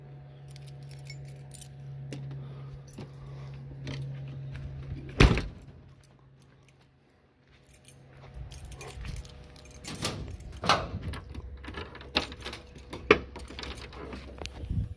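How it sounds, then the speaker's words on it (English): Keys jangle near a 1992 Ford Mustang GT as its hatch is opened, with a sharp latch clunk partway through, then scattered rattles and thumps of handling the hatch. "Oh, I haven't even opened the hatch on it yet."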